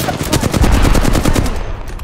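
Rapid automatic gunfire from Apex Legends, a dense run of about a dozen evenly spaced loud shots over two seconds, close and continuous, with no voices.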